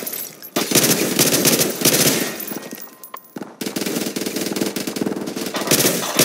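Rapid automatic gunfire from a Call of Duty prop hunt match, loud and continuous in dense bursts with a brief break midway, no talk over it.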